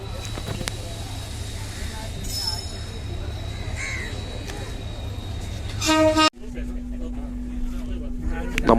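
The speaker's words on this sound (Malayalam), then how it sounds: "അങ്ങനെ ട്രെയിൻ എത്തി" A Vasco da Gama–Nizamuddin express train pulls into a station platform in Goa, its rumble and a brief horn toot sounding amid platform noise and crows cawing, followed by a sudden drop and a steady low drone.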